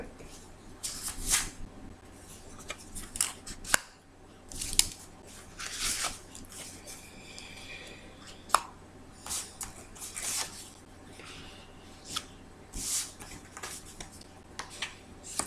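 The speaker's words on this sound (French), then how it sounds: "je vais rechercher 4 autres cartes" Tarot cards are shuffled and drawn, giving faint, close papery swishes and light snaps that come in scattered short bursts over a quiet room.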